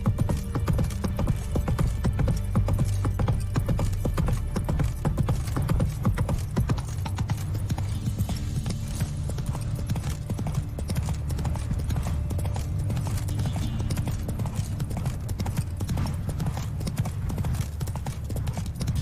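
Horse Roach galloping in The Witcher 3: Wild Hunt, a fast steady clip-clop of hooves repeating throughout over a low game hum, close and continuous with a faint neigh.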